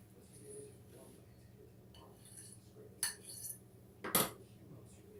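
A fork clinks and scrapes on dishes in a home kitchen, two sharp bright clatters standing out over a quiet room hum, with faint background talk.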